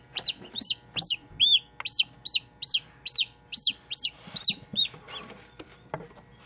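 Repeated high, bright peeps from newly hatched chicks, about a dozen calls in a steady rhythm, close and clear over a faint low background.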